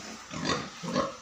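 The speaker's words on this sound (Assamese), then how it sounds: "গাহৰিখিনি আছে ইয়াতে" Pigs grunting on a pig farm, two broad, rough bursts of grunting a moment apart, fairly close, with no talk.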